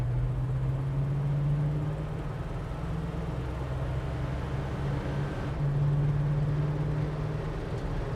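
A 1973 Dodge D100 pickup truck driving on a road, its engine a steady low hum that rises and drops in pitch as it shifts through the gears.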